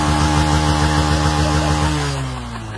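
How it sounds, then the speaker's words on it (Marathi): A car engine running loud and close at high revs, a harsh droning roar with a strong rhythmic pulse that drops in pitch and eases as the revs fall away near the end. "पाले आवाज दाखव आपल्या गाडीचा. स्टार्टर मार. स्टार्ट मार भाई."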